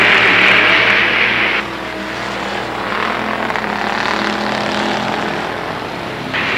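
Pure stock race cars roar around the dirt oval at Lernerville Speedway in 1994, a loud continuous engine drone with a high whine that drops away after a moment and then swells again as cars pass.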